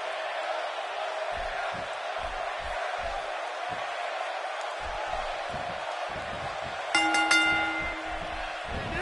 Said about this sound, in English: I don't think I've heard a Toronto crowd this loud since we were in the Dome for WrestleMania 18